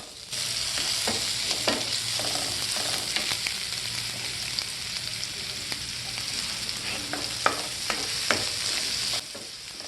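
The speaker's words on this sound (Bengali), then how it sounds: "এখন প্যানে তেল দিয়ে কাটা পেঁয়াজ ও কাঁচামরিচের টুকরোগুলো ভেজে নিচ্ছি।" Chopped onion and green chilli frying in oil in a pan, a steady close sizzle with intermittent scraping stirs and clinks from a utensil, no talk.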